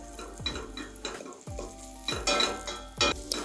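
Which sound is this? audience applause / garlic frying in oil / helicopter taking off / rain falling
garlic frying in oil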